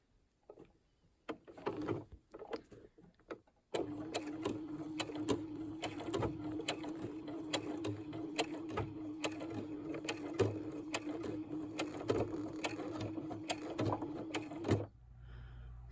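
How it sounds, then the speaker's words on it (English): A sewing machine runs continuously for about eleven seconds, stitching a quarter-inch seam around the head of an embroidered fabric memory bear, after a few short starts and handling sounds. "start at the back seam, 1/4 inch seam allowance, sew a little, turn your fabric, sew a little, turn your fabric until you make a complete circle"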